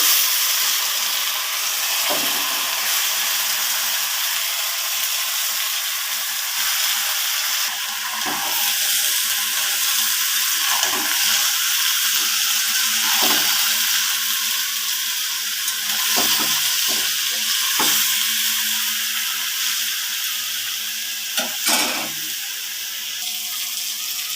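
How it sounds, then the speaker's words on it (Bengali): Chopped vegetables fry in a pan, a loud, steady hissing sizzle broken by repeated scraping stirs at irregular intervals, close and continuous without speech. "এভাবে নাড়তে থাকবো যাতে লেগে না যায়"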